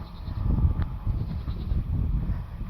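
Young goats bleat in a kid goat play yard beside an electric fence, faint calls blending into steady outdoor rumble and wind noise, with no talking.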